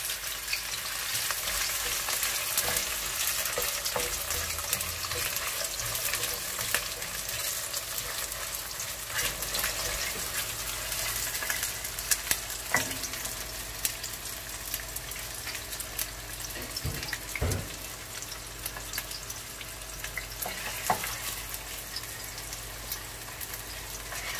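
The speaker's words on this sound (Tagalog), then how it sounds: "mag-umpisa na tayo magisa. Una natin ang sibuyas." Onions sautéing in hot oil in a pan for Bicol Express, a steady close sizzle with frequent stirring scrapes and clicks running unbroken throughout, no voices.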